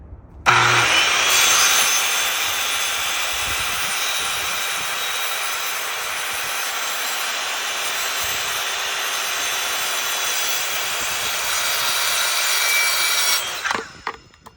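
A power saw cuts laminate flooring with a loud, close, continuous high-pitched whine. The blade spins up first, runs through the board for about thirteen seconds, then winds down.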